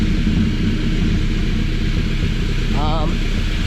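A Honda Civic's exhaust idles in a low, steady rumble nearby, fairly quiet, with a brief chirping sound partway through.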